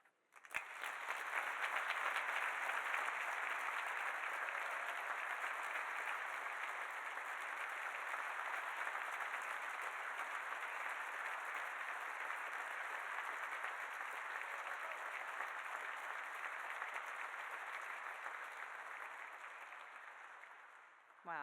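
Sustained applause from an audience at a breakfast fundraising event, dense steady clapping lasting about twenty seconds before fading at the end.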